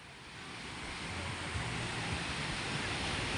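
Strong wind roaring over rough waves at sea, a dense steady rush of broadband noise close to the microphone, building slightly and then cutting off abruptly.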